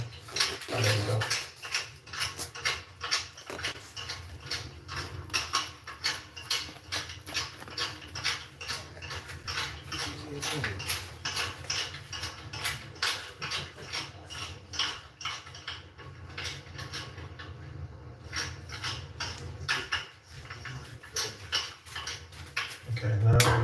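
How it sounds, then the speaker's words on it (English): A pepper grinder cranking black pepper onto a ribeye steak, a fast ratcheting tick-tick rhythm repeating throughout, close and fairly quiet, with a few soft kitchen clatters in the background. "the pepper grinder is not being cooperative right now. Oh, there we go."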